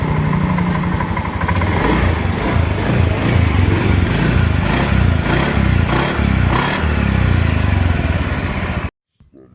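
A repaired Honda Beat FI motorcycle engine idles loudly and steadily nearby with a rhythmic clattering pulse, then cuts off abruptly near the end.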